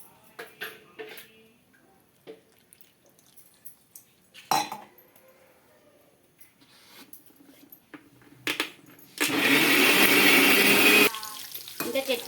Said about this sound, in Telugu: చింతపండు వేసి స్మూత్గా గ్రైండ్ చేసుకో